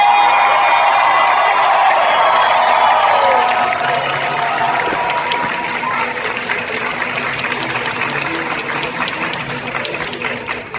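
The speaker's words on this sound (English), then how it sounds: "please give a huge round of applause for Grant Gustin!" A large audience at a comic convention panel applauds loudly, the clapping starting dense and gradually thinning out over about ten seconds.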